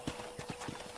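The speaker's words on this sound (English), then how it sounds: "let's see if you can still ride a horse" Horse hooves clip-clopping in Red Dead Redemption as a rider sets off toward a ranch in New Austin, a steady run of about five even hoofbeats in one second, moderately close, with no talk over them.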